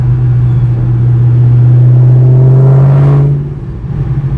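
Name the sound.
Mustang Cobra engine revving in third gear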